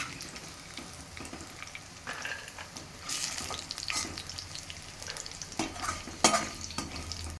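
Peanuts fry in a pan and are stirred, giving a faint, crackling sizzle broken by irregular scraping and rattling bursts as they are moved around.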